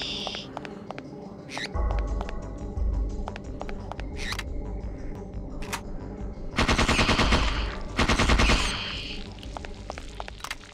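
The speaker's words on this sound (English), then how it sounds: "The rats, bro." Rats swarming in Parasite Eve 2 bring shrill squeaks and chittering among rapid bursts of gunfire and clicks, dense and busy, with a voice talking over the action at times.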